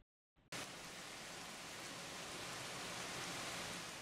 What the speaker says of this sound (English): You might be able to hear raindrops.